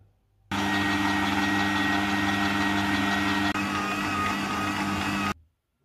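Stand mixer kneading bagel dough with egg and butter at medium speed: a loud steady motor whir that starts abruptly, runs about five seconds with a slight hitch midway, then cuts off.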